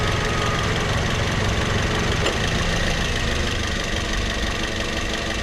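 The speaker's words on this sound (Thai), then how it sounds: "มาฟังเสียงเครื่องยนต์นะครับกำลัง กำลังอัดเครื่องยนต์ดีนะครับไม่มีไอนะครับ" A 2011 Toyota Vios E with automatic transmission idles smoothly, its engine a steady, even rumble heard up close, constant throughout with no talking.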